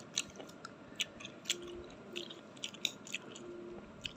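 Someone bites and chews a bitter, fibrous vegetable close to the mic, with sharp crunchy bites repeating every half second or so over soft, wet mastication, and no talking.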